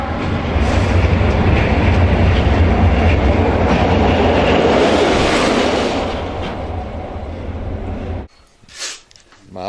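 A train rolls past on the rails close by, a loud continuous rumble with rhythmic clacking that fades away toward the end, leaving brief voices and quiet.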